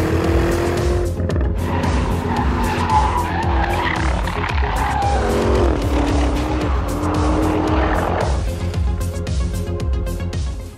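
A new high-performance Porsche Cayenne corners hard, tires squealing loudly over a deep steady engine roar, the squeal rising and sliding in pitch before easing off near the end.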